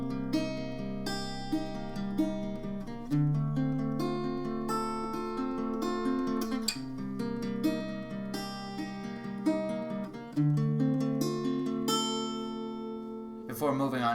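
Guitar picking the second part of a song, a steady flow of plucked notes over ringing bass strings, close and moderately quiet, played alone.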